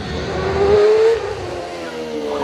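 Race car at a Prescott hill climb accelerating past, a loud rising engine note that swells and then drops away as it passes, with a second engine rising near the end.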